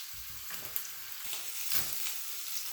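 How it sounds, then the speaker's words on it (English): Ribeye steak sizzling in melted butter in a hot pan, a close, steady crackling hiss with soft spatters and pops throughout. "Now the butter's done, and we're gonna place down the meat."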